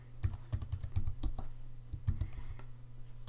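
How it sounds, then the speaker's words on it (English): Quiz answers being typed on a computer keyboard: close, clicky keystrokes in two quick bursts with a short pause between, each burst a rapid run of taps over a low steady hum. "again we can type in"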